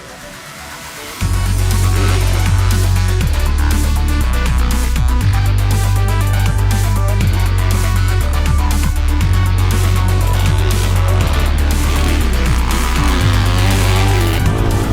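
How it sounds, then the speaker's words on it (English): A 2018 Yamaha YZ450F dirt bike engine roars loud and steady, its drone stepping up and down in pitch several times as the rider shifts between second and third gear. "I'm in 2nd gear right now. And that was 3rd, downshift to 2nd."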